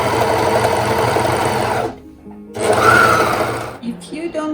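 A sewing machine stitches a simple skirt in a rapid, loud mechanical whir. It stops for about half a second, starts again, and then fades into quieter handling sounds.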